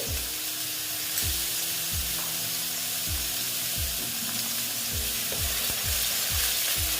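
Pointed gourd (potol) fries in a pan with salt, a constant bright sizzle with low, regular thumps about every second from the pan being worked.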